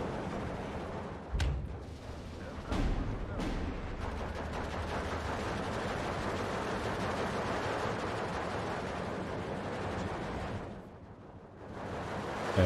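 Mortar fire in the WWII strategy game Steel Division 2: a few sharp, booming blasts land early, then a continuous rumbling barrage of distant explosions rolls on before briefly thinning out near the end, with no voices.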